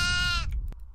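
Goats bleat in the horror game Devour, one long wavering bleat with strong harmonics that breaks off partway, followed by a brief sharp click over a low rumbling game ambience.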